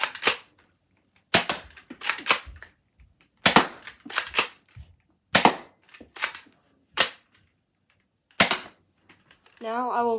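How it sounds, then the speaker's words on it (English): A Dart Zone Pro MK II blaster fires bamboo darts in a series of sharp, loud pops, spaced a second or two apart and each followed by a short rattle. A voice starts speaking at the very end. "Now I will chronograph this blaster using the included bamboo darts."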